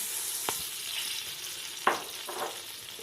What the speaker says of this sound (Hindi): सबसे पहले हमने ये पतीला जो है चूल्हे पे रख दिया है। और उसके अंदर हमने ये 1 कप जो ऑयल था वो डाल दिया है